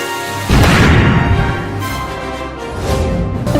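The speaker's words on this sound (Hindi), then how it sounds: "देखना कितना जोर से फटेगा वो पटाखा।" A Diwali firecracker in a cartoon goes off with a sudden loud boom, followed by a rough, rumbling blast that lingers and swells again.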